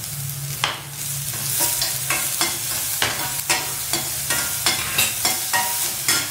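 Onion, ginger and garlic fry in a pan while a spoon stirs them with steady rhythmic scrapes over a constant loud sizzle, close up, with no talking.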